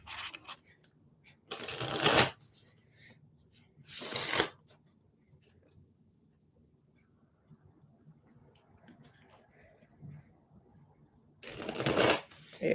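A deck of tarot cards being shuffled in loud, brisk riffling bursts, three separate rounds spread across the clip with quiet pauses between them where a voice talks softly.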